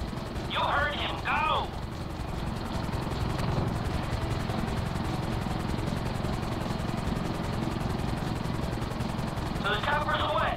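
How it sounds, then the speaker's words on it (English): Helicopter in the GTA 5 video game: a continuous whirring rotor drone with steady low thump, loud and unbroken, while short chirpy electronic sound effects flash at the start and end. "Bringing the chopper back around."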